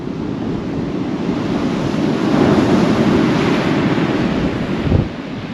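Wind buffeting the microphone on the seashore at Tunstall during sea fishing, a steady roaring rumble mixed with the wash of surf, swelling in the middle and easing toward the end, with no voices.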